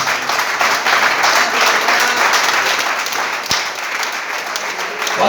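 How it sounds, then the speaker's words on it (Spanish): A church congregation applauds at a sermon, steady dense clapping filling the space for the whole stretch, loud and continuous. "Aplaudan."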